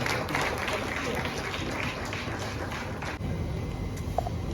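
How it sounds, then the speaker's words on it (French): Audience applause at the closing evening of an international women's forum, a dense, steady wash of clapping mixed with crowd noise throughout, fairly distant in a large hall. "on peut applaudir pour l'encourager encore."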